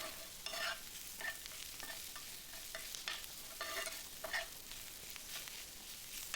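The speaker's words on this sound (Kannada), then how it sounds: "ಹಾಕ್ಕೊಂಡಾದ್ಮೇಲೆ ನೀಟಾಗಿ ಮಿಕ್ಸ್ ಮಾಡ್ಕೋಬೇಕು" Garam masala is stirred into hot frying oil in a pan for an egg fry: a faint, steady sizzle under repeated soft scraping strokes, with no talking.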